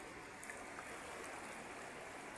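A river stream flows with a steady, soft rushing and burbling sound. The water sounds fairly distant and continuous, with no voices.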